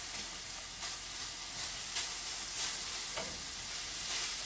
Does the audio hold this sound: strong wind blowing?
no